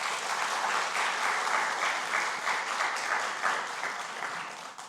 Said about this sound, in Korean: 우리 박수 한번 해주시기 바랍니다